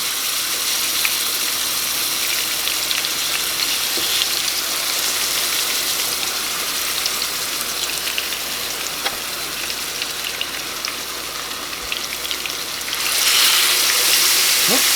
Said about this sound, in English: if you put your chicken in it and it sizzles, it's ready